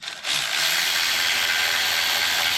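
A power tool runs in one steady loud whir while bolting down a radiator on a 2020 Can-Am Maverick X3 XRC RR being rebuilt after a rollover, starting abruptly and holding for a couple of seconds.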